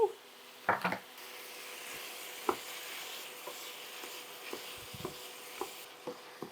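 Ground beef and onion frying in a pan for a beefaroni dinner, a steady soft sizzle under occasional wooden-spoon knocks and scrapes, one louder clatter near the start.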